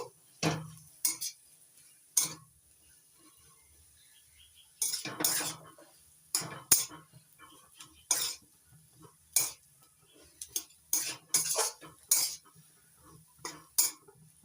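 A spoon stirs and scrapes a pan of tomato chop filling with roasted ground spice mixed in, making irregular clinking strokes in bursts with quiet gaps, close and fairly distinct, alone without talk.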